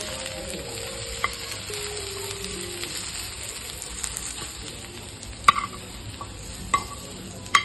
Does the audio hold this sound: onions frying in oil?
yes